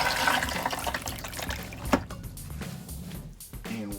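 Water gushes and swirls into a newly installed Thetford RV toilet with a hand crank, a close, steady rushing fill that thins out toward the end before a brief final splash.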